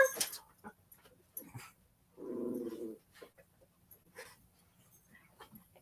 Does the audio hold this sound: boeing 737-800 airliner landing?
no